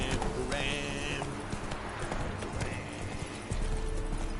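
Roach, the horse in The Witcher 3, gallops in a rhythmic clip-clop of hooves with a short whinny near the start, and a voice talks over the game sound.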